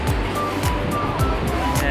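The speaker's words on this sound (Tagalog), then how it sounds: "Sarap ng alon." Ocean surf rolling onto the shore beside Candy House in Tacduan, Puerto Princesa, Palawan, a steady broadband wash with repeated swells, while people talk nearby throughout.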